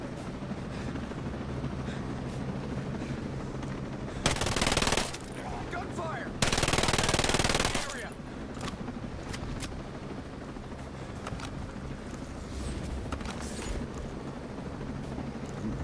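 Loud automatic gunfire in the video game Ghost Recon Breakpoint, two sustained bursts of a few seconds each over a steady game background.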